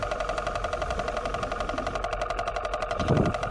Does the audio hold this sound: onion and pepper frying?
no